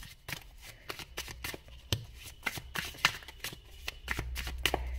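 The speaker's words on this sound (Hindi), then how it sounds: "अगर आपको पसंद नहीं आता है ये कार्ड शफलिंग देखना, तो आप स्किप कर सकते हो" Tarot deck being shuffled by hand, a steady run of crisp card riffles and soft flicks close up, with brief pauses between bursts and no talking.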